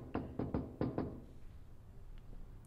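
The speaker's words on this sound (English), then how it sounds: "You act like knocking on the door." Knocking on a door: five sharp raps in a quick uneven rhythm, fairly close and clear, followed by a quiet room.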